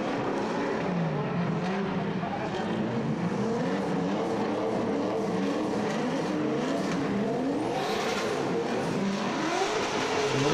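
Drift cars at an event in Plovdiv roar past at close range, engines revving hard and loud with rising and falling pitch sweeps as they go by, filling the whole stretch without a break.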